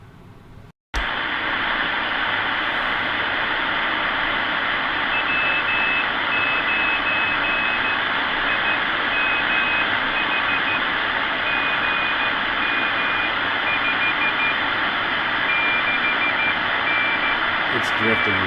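A ham radio receiver warming up in a home radio shack gives a steady, loud hiss of static with a faint drifting tone running through it, starting abruptly after a brief quiet moment and continuing without a break.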